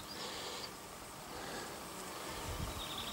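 Soft, steady buzzing of honeybees flying nearby, faint and continuous with a slight rise and fall.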